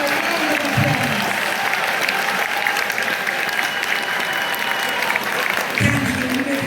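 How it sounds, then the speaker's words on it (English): Steady crowd applause fills a high school graduation ceremony at York Castle High School, sustained and fairly loud throughout, with no clear talk over it. "can everybody just put your hands together and give them a round of applause?"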